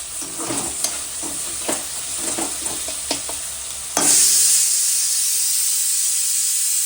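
Capsicum and tomato for pav bhaji fry in a pan with rhythmic stirring scrapes. Then a loud burst of hissing sizzle takes over and holds steady.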